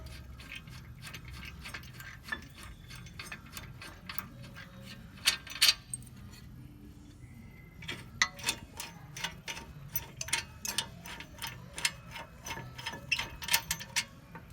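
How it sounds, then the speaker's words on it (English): A socket ratchet works loose the 19mm brake bolts on a 1997 Nissan pickup, its rapid close clicking in repeated bursts with short pauses between them, loud and with no talk. "so we're gonna remove the bolts"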